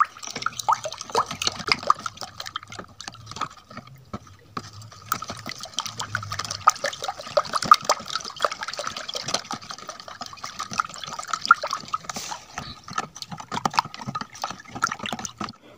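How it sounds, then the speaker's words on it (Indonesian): Liquid organic fertilizer mixture being stirred, giving a continuous run of close, irregular sloshing, splashing and dripping water sounds throughout. "kita aduk dengan rata"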